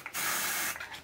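A Mercadona Daily Plus soft antiperspirant deodorant spray, alcohol-free, releases one steady hiss lasting about half a second, close and clear with no talk.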